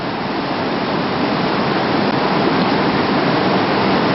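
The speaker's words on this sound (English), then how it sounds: "Around the corner the rapid continues." Whitewater rapids on the Arkansas River at Pine Creek roar in a dense, steady rush of churning water, loud and constant with no voices.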